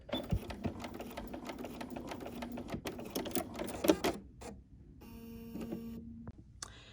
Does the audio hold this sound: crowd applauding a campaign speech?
no